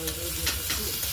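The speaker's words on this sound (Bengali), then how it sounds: "তো কুমড়োগুলোকে একটু আমি ভাজা ভাজা করে নেব" Pumpkin pieces fry in hot oil with black mustard seeds, giving a short burst of sizzling and crackling with a light scrape of stirring.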